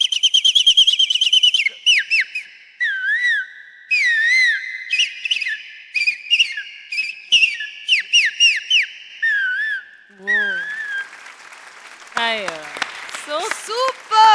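A performer on a stage show imitates many birds chirping together at dawn, using rapid overlapping whistles and trills that rise and fall, loud and close, with a few quick sweeping calls toward the end.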